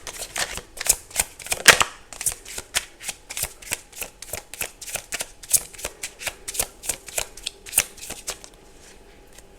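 Tarot cards being shuffled by hand, a close, crisp series of rhythmic riffling flicks and snaps repeating steadily with no talking.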